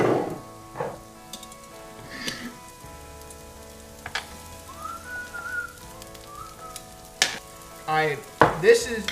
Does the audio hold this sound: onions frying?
yes